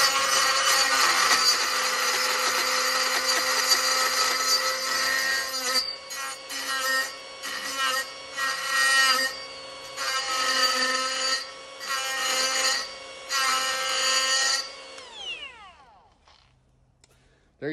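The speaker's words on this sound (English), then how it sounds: "Use wax with your carbide tips when you're cutting aluminum." A carbide-tipped saw blade cuts waxed aluminum with a loud, bright, sustained whine, then breaks into a series of separate screeching bursts before spinning down and going quiet.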